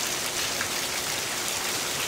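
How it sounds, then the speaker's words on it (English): Steady, dense rain pours during an Arizona thunderstorm, a continuous loud hiss of drops with no break and no voices. "That's what a bit of rain in Arizona can do."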